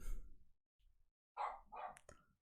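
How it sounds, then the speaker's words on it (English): A dog woofs in a home during a live online talk, a few short muffled barks heard faint and somewhat distant, with quiet gaps between them. "I muted my mic because my dog's woofing."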